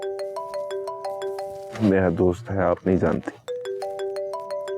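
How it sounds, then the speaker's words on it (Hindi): A mobile phone ringtone plays a repeating pattern of bright electronic beeps, stops while people talk, then starts again. "किसका फोन है?"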